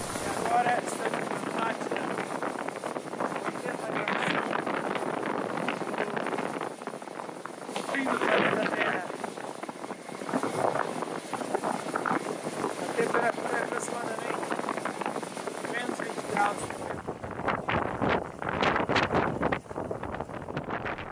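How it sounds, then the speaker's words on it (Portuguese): Strong wind in Antarctica, biting cold around minus 20 to 30 degrees just off an airplane, roars as a constant, loud buffeting rush across the whole stretch, surging and easing without pause. "e muito vento."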